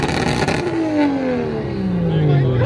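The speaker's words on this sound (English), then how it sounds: "car meets where you can expect a lot of revving" A car engine at a rowdy Southern California car meet revs up loudly, then its pitch slides steadily downward as it winds off, close and dominant for a few seconds.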